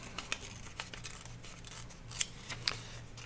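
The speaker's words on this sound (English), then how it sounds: "I'm going to go ahead and tear off just a tiny bit of this side" Patterned craft paper is torn by hand in short ripping bursts with a few sharper crisp snaps, close and fairly quiet over a low steady hum, with no talking.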